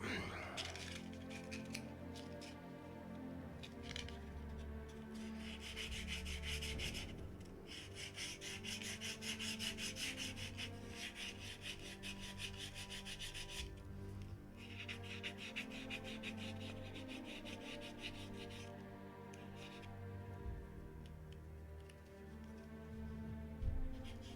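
A leather edge being burnished with very fine 600-grit sandpaper, heard as a continuous run of close, dry rubbing and rasping strokes at a fairly even rhythm, with a few brief pauses.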